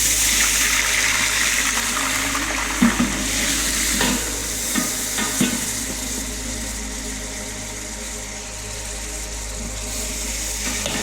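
Chicken sautéing with ginger and garlic in a pan, a steady close sizzle with occasional stirring scrapes and knocks, no talking.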